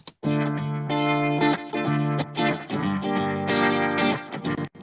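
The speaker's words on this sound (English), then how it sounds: "We've got tape stuff happening, some EQ, harmonic distortion, transient shaping" An electric guitar processed with tape saturation, EQ, harmonic distortion and enhanced transients plays a loud, sustained chordal riff with punchy note attacks and brief breaks, alone with no talking.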